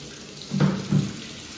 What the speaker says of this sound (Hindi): थोड़ा सा पानी डालेंगे, मतलब इतना पानी डालेंगे कि जिससे हमारा ये हो जाए कि वो थोड़ा ऊपर आ जाए।